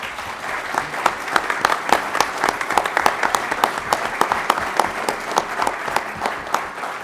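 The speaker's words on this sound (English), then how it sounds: "let's give our panel a round of applause." A seated audience at a panel discussion on minority and women-owned asset management firms gives a round of applause, a modest crowd with distinct individual claps, fairly close and steady, no speech over it.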